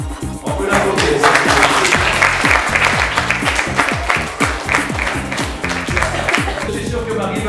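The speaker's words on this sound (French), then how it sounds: "On peut l'applaudir." Audience applause at an event at Château de La Batisse in Chanonat, France, a loud, dense, steady clapping that fills the whole stretch with a crowd of hands, with voices faintly mixed in.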